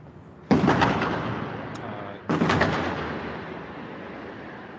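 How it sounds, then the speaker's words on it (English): Two loud, sharp explosions go off close by near the FBI headquarters, each a sudden blast followed by a long rolling echo that fades slowly between and after them. "loud explosions behind us here, or in front of us here, up on the corner of the FBI headquarters where these explosions are going off"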